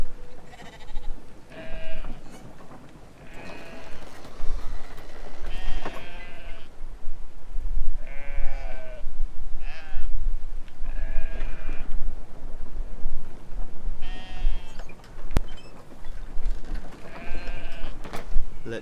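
Sheep in the video game Brothers: A Tale of Two Sons bleat over and over, wavering calls repeating every second or two, loud and close against a low rumbling game soundscape.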